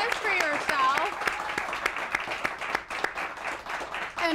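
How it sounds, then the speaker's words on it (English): Studio audience of a television talk segment gives a short round of applause, scattered sharp claps running under a host's voice and cheerful chatter, moderately close and not very loud. "Give a round of applause for yourself."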